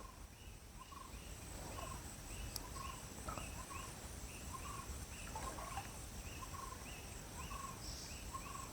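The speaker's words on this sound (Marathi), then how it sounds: "पाखरांचा पण आवाज मस्त येतो आहे" Birds call repeatedly in a short, rhythmic pattern over a steady hiss of outdoor background noise, fairly distant, with no talking.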